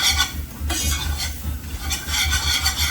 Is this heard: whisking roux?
yes